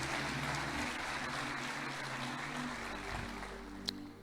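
A church congregation applauds during a sermon, a steady wash of clapping that fills the room without a break and with no voices over it.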